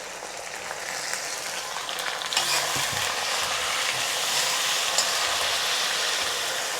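Ginger-garlic paste goes into chopped onions that are already frying red-brown in a pan for a goat meat curry, giving a steady loud hissing sizzle with a brief stirring clatter, no voices.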